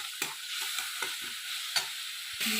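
Spice masala with a little water fries in a pan for a vegetarian young jackfruit curry, a hissing sizzle broken by repeated quick scraping stirs, close and fairly quiet, with no voices.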